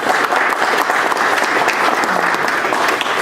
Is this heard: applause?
yes